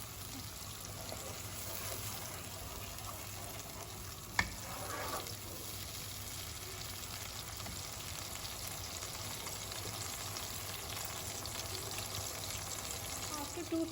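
Shahi paneer masala cooks in a pan with a steady, low sizzle and gentle frying hiss throughout, broken by one brief sharp knock of a utensil partway through; faint background hum, no talk.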